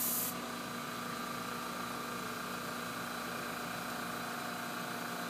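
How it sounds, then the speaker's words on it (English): An airbrush sprays weathering paint onto an HO scale model freight car, a steady, even hiss that runs without a break from start to finish, close and fairly quiet. "I'll take my airbrush and I'll just go over it lightly, nothing fancy."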